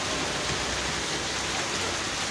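Heavy rain pours in a dense, unbroken hiss, loud and steady from start to end with no voices.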